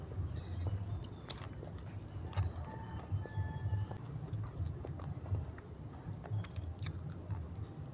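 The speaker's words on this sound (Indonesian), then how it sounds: "Keasikan makan kerupuk" Crunchy kerupuk crackers being chewed close up, with repeated soft crunching bites in a steady rhythm and no talk.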